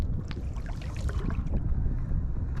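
Continuous wind gusting across the microphone on open water while fishing from a kayak, a low buffeting rush with faint splashes and knocks, with no voices.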